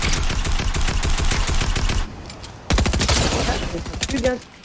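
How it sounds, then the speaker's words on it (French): Fortnite gunfire, fast rhythmic bursts of close automatic shots, a brief lull, then another rapid string of shots before fading. "on me tire dessus encore"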